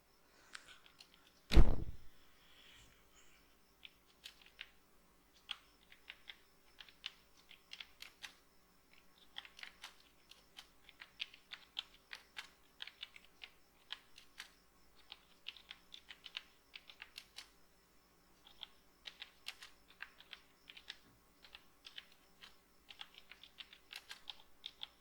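Light, irregular keystrokes tap on a computer keyboard, quiet and close, scattered clicks continuing for over twenty seconds after a single louder knock near the start.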